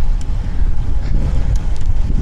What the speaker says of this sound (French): Et en plus de ça, j'ai du vent,